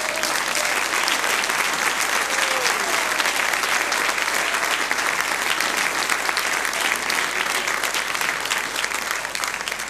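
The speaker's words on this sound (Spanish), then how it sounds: "Den un aplauso a todos" A church congregation at a Sunday service in a Santiago, Chile tabernacle applauds together, a continuous, even roar of many clapping hands sustained for about ten seconds with no let-up, heard from within the crowd.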